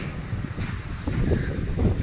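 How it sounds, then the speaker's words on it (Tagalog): Strong wind buffets the microphone in low, rumbling gusts that swell and ease across the short stretch, with no voices. "Pero malakas ang hangin."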